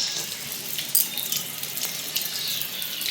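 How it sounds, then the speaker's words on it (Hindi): Water trickles from a tap in a soft, steady hiss with a few faint splashy ticks, heard alone and fairly quiet. "ये देखें पानी टपक रहा है"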